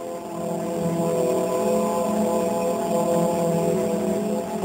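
A group of propeller planes drones overhead in a steady, loud, continuous hum that holds level without breaks.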